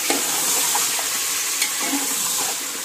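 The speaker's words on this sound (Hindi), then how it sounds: "चिकन को प्याज के साथ थोड़ा सा हम भून लेंगे" Chicken fries with onions in a pan for a desi-style chicken curry, giving a loud, steady sizzle with bright hiss throughout and a few faint clinks of stirring.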